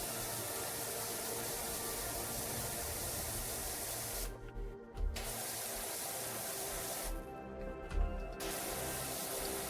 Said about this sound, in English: Now spray away from us to clean the rest of the roof.